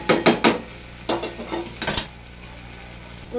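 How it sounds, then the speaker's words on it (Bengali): A spatula scrapes and clinks against a pan as potatoes are sautéed with spice masala, with a few sharp metallic knocks in the first two seconds, then a faint low simmer. "আলুটাকে দিয়ে মশলাটাকে দিয়ে কষে নেবো"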